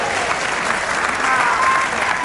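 Audience applause at a talk event, a dense, steady clapping that stays loud and even throughout with no breaks.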